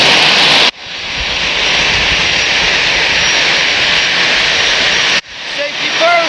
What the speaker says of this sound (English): They're shooing us out of the way of the plane.